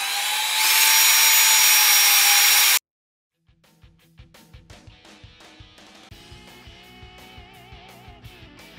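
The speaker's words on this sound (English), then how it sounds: "now that you have punched through the outdrive with your drill bit" A loud whirring power drill runs for a few seconds, punching through a boat outdrive, and stops; after a short silence, a rhythmic series of knocking, grinding pulses follows.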